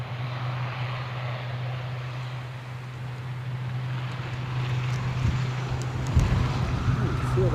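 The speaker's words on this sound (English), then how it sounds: "this ATR going short to Belfast" An ATR turboprop airliner departs a windy Edinburgh Airport, its steady propeller drone humming at a distance and swelling slightly toward the end amid wind noise, with faint talk mixed in.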